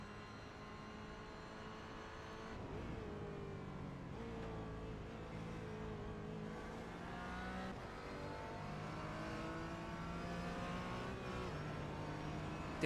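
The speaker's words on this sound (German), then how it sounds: "Der Cayman Porsche jagt hier gerade aktuell den BMW M4" A Porsche Cayman chasing a BMW M4 in a sim racing game on the Nürburgring, with steady engine drones rising and falling through gear changes, two engines layered together throughout at a moderate level, with no voices.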